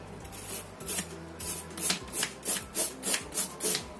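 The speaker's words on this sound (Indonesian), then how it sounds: "Kemudian ini kita serut." Rhythmic rasping strokes of food being shredded on a grater into long thin strips, about eight steady passes in four seconds, close and fairly loud with no voices.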